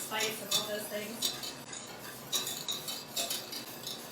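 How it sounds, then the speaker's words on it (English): Hollandaise sauce of butter and lemon juice being whisked in a home kitchen for eggs Benedict, with a metal whisk clinking rhythmically against the bowl in bursts, moderately close. "I hope you can all hear me even with all this whisking going on."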